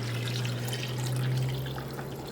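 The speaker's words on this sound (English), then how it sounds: "And then we need 3 cups of water." Three cups of water poured for a chicken brine in a home kitchen, a steady, fairly loud continuous splash and gush lasting a couple of seconds with no talking.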